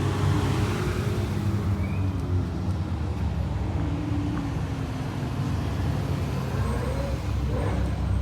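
A parade of Ferraris rolls around the Spa-Francorchamps circuit, heard as a steady, loud wash of engine rumble and road noise that holds without a break, with no clear single car passing.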